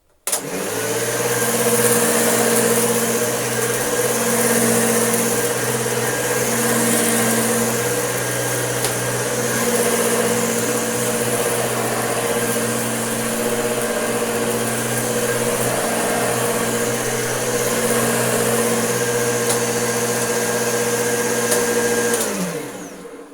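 A refurbished Hoover Junior U1104 upright vacuum cleaner runs steadily for over twenty seconds, a loud continuous motor drone with a bright whine, starting abruptly and cutting off at the end, with no talking.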